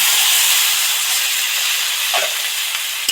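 Water poured into a pan of fried spices and kulpho greens on the stove, giving a loud, steady sizzling hiss that stays strong and close throughout.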